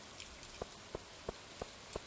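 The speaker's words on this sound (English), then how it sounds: "I mean, the beach during the rain is quite nice." Rain falling on the beach in the Stardew Valley video game: soft drops land at a steady, even pace, roughly one every third of a second, over a faint hiss of rainfall. No one speaks.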